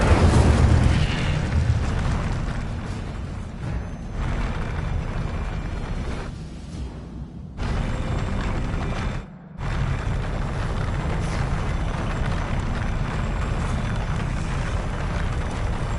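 An Incendio fire spell exploding in Hogwarts Legacy, a loud sustained roaring blast with rumbling booms and crackle, broken by two brief drops before the roar resumes.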